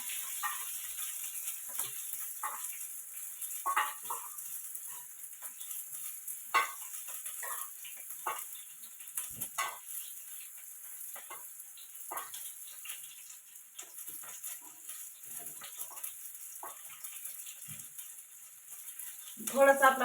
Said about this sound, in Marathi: लसूण पण भाजून घेते आता त्याच्यातच मिरच्या फोडून टाकल्या